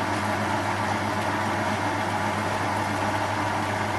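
A lathe with a shear tool finishing aluminium dry gives off a steady, even machine hum and whir, close and uninterrupted, with no talking.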